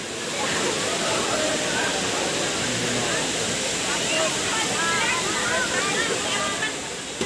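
Mountain spring water flows steadily at Badiang Spring Resort, a constant close rushing wash that runs the whole time, with faint crowd voices mixed in.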